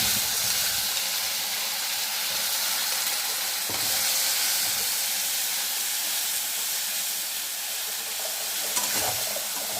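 Tomato puree fries in oil with green chillies for a pasta sauce, giving a steady close broadband sizzle and hiss throughout, with occasional soft scraping from stirring and no talk.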